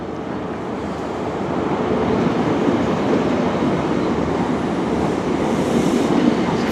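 A train at Paignton led by HST power car 43026 with 43192 at the rear, heard as a steady, loud broadband rumble that swells slightly and holds through the whole stretch, no voices over it.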